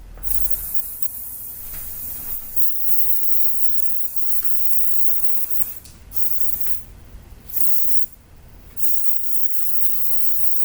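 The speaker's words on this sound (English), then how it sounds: "I'm gonna grab the light hairspray" Several bursts of light hairspray hiss onto shoulder-length layered hair, some short and some longer, close to the listener over a steady background hiss, with no talking.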